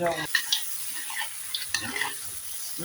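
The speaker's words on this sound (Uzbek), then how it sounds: "Piyoz bilan go'sht qizarguncha, qovurilguncha." Mutton and onions frying in a pot, a soft sizzle under repeated stirring scrapes and clinks of a utensil against metal.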